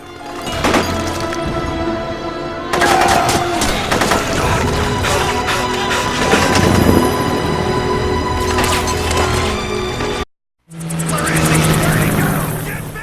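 Dense bursts of gunfire and crashing impacts in a video game cutscene, layered over music, crows and truck engine rumble, loud and sustained, broken by a brief moment of silence.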